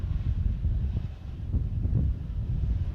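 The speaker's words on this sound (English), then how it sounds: "Whoa, it's really windy" Steady wind gusting against the microphone at an airport during planespotting, a low rumbling roar with no voices.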